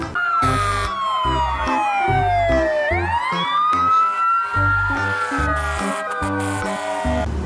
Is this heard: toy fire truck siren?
yes